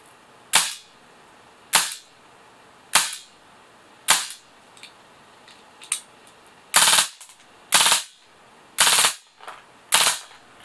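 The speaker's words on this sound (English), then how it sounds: "Overall, I found firing the M712 to be very loud and very satisfying for an airsoft gun" WE airsoft C96/M712 gas blowback pistol firing full auto: sharp, loud cracking bursts in short groups, some single and some rapid doubled strings, separated by quiet gaps.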